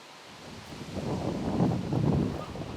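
Wind gusting across a disc golf course at the Australian championships, a low, rumbling buffet on the microphone that swells and surges for a few seconds.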